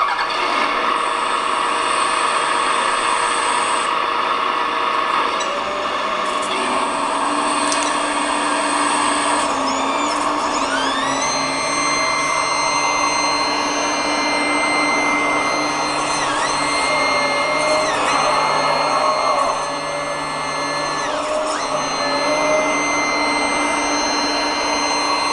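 An RC excavator fitted with a Servonaut sound module runs its simulated engine, a loud steady drone with rising whines and pitch sweeps as the machine works, no talk.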